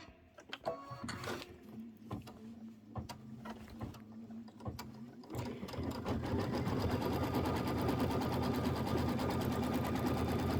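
A computerized embroidery machine stitches a tack-down line on background fabric for an autumn quilt block, its needle clattering in a fast, steady mechanical rhythm that starts in bursts and then settles into continuous close, loud running.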